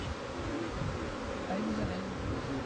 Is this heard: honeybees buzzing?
yes